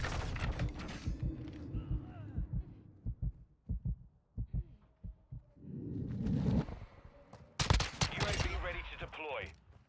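Gunfire from a team deathmatch shooter game arrives in short bursts, interrupted by heavy thumps and pauses, with a louder cluster of shots near the end amid mechanical game effects.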